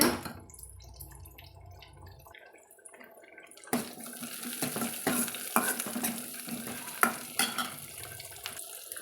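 Onions sautéing in a pan for a white pumpkin kootu: a quiet low rumble first, then a brighter, louder fry sizzle with repeated scraping and clinking stirs near the pan.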